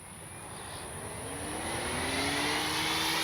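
An Avios Extra NG 300 RC airplane flies overhead, its steady engine drone swelling gradually louder and closer as it passes, alone with no talk.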